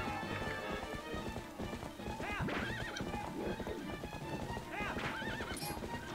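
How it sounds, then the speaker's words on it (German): A horse in the video game Zelda: Twilight Princess neighs twice over a steady clatter of galloping hooves, loud and close against game background sounds. "das Pferd hat sich vor der Bombe erschrocken und läuft im Kreis"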